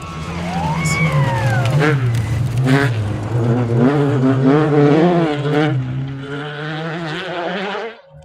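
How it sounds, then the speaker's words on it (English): A rally car at a spectator corner on the Oregon Trail Rally roars past with strong induction noise, its engine note rising and falling through gear changes for several seconds, loud and close, with commentators talking over it. "that's another car that's got some good induction noise"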